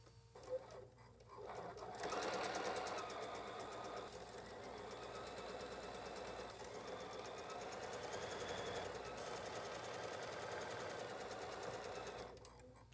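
Home sewing machine stitching a diagonal seam across a quilt block, running steadily for about ten seconds with a brief start and stop at either end.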